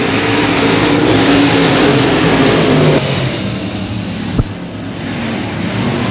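Race cars roar off the green flag start at Cotton Bowl Speedway, a loud wash of engines that drops after a few seconds, with a sharp knock near the end and no voices.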